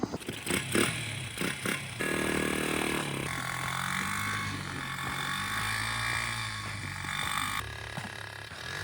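A pit bike, a small dirt bike on studded tires, drones and revs steadily up close while towing a skater behind it on a rope, with clattering bursts at the start and a sustained engine note throughout.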